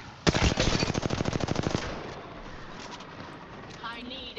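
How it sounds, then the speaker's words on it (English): Rapid automatic gunfire from the video game Apex Legends, a close burst of roughly twenty evenly spaced shots lasting about a second and a half, then fading into softer game ambience with faint distant effects. "Why are you shooting me so hard?"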